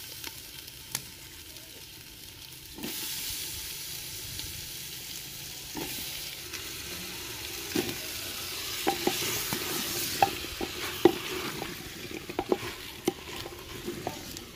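Potatoes tossed with fenugreek leaves in a hot pan for a village-style aloo methi, a steady sizzle of frying under scattered stirring scrapes and light clinks of the spatula, close and continuous with no talk.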